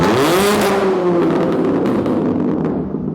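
A Fiat Panda's small 1.4-litre engine revs hard and loud, holding a high, buzzy roar that rises and then settles slightly, close by with no talking.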